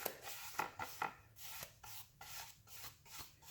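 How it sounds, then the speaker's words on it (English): A paintbrush drags grey wash across a dry wood board with the grain, giving a series of soft, close rasping strokes in an uneven rhythm, with no talking. "And you are going to paint onto the dry board."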